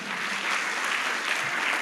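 A church congregation gives a short burst of steady applause during a sermon, many hands clapping together in a roomy, even wash of sound that lasts under two seconds.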